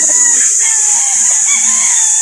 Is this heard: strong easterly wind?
no